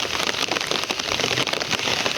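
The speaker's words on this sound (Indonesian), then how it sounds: "Inilah perkampungan suasana turun hujan ya." Heavy rain pours steadily over a village, a dense, close wash of drops drumming on surfaces with no let-up and no voices.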